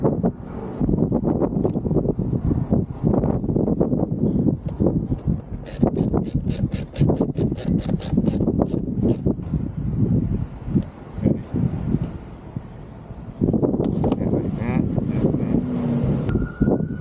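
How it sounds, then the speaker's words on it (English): Steady breeze buffets the microphone outdoors during a Can-Am Spyder RT Limited passenger armrest install, a continuous low rumble running under a man's speech throughout. "Breezy out here."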